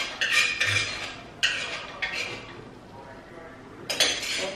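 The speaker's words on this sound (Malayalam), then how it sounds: "ഇന്നത്തെ അവിയല് വടിച്ചെടുക്കാണ് കഴിഞ്ഞു." Metal utensil scraping and clinking against a cooking pot while avial, a Kerala mixed-vegetable dish, is scooped out, with several sharp bursts of scraping separated by short pauses, close and fairly loud.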